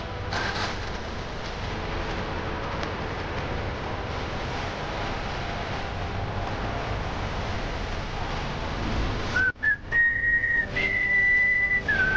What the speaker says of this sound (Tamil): ப்ளீஸ் விசில் அடிக்காதீங்க.